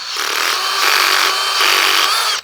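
A power drill spins steadily while boring into material at a low clutch torque setting with light pressure, a loud, even whirring hum lasting a couple of seconds before cutting off.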